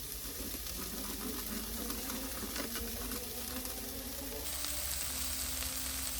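Greens seasoned with salt sizzle and crackle steadily as they are stir-fried in a hot pan, a dense continuous frying hiss close up with no talking.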